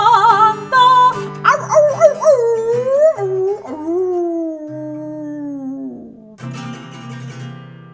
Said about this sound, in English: Somebody put the dog out.